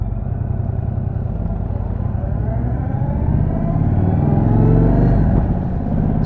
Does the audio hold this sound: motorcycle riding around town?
yes